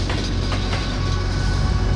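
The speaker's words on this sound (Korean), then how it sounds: "우름치를 떠나 투르판으로 향하던 특급 열차가 사막을 횡단하고 있었다." An express train crosses the desert at night in a storm with snow and strong wind, a dense steady rumble and rattle of the carriages with faint rhythmic clicking, loud and continuous with no talking.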